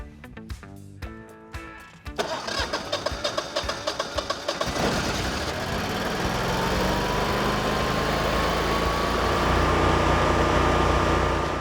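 A Generac standby generator running on natural gas cranks with a quick series of rhythmic chugs, catches, and settles into a steady, loud engine drone with a faint rising whine, close by and with no talking.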